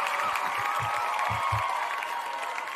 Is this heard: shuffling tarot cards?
no